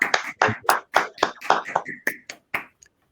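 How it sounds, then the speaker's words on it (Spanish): Sparse clapping from a small group welcoming the son of painter Fernando Botero at a tribute event, about a dozen distinct close claps in an uneven rhythm that thin out and stop near the end, with no talking. "Con este aplauso le damos la bienvenida a usted al Centro de Pensamiento Libre."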